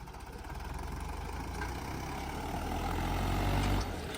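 A Standard tractor engine running steadily nearby while pulling a disc harrow, a low rumbling drone that swells slightly before easing off near the end.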